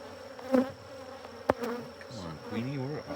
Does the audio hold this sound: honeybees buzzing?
yes